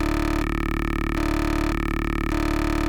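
Spire software synthesizer tone run through a distortion effect, a steady buzzy harmonic drone that alternates between two timbres roughly every second as the pre-distortion setting is toggled, loud and alone.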